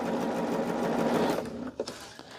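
Sewing machine stitching charm pack quilt pieces, a close steady whirring run that slows and stops into a few short bursts.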